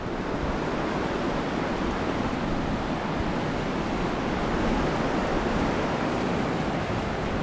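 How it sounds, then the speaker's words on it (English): High water of the Nile River in Tasmania rushes down a gorge after floods, a dense, unbroken roar of flowing water, steady and fairly loud with no voices. "Still a lot of water coming down the Nile."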